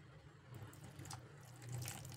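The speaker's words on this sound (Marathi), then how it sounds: "पाणी घातले अर्धा कप." Half a cup of water poured onto jaggery for sweet appe, a steady tap-like stream running close by for about two seconds with no talking.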